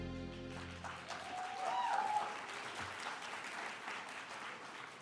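Audience applause for models at a Heritage Month closing ceremony, a sustained wash of clapping from a crowd that swells after the first second and holds steady.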